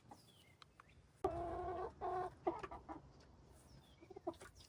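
Backyard hens cluck in a few loud, close bursts, with a rooster among the flock and quieter chirps and shuffling between calls.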